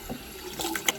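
Running water splashes and trickles softly as a face is rinsed, with faint, brief splashing spread over about a second.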